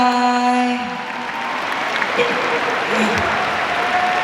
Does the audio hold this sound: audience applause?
yes